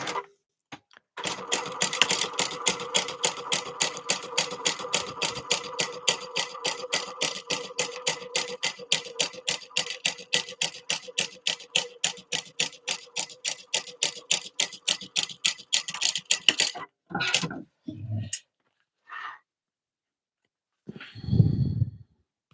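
A sewing machine stitches a passport wallet with purple thread in a long run of quick, even needle strikes, close and clear, then stops, leaving a few isolated bumps and a breath near the end.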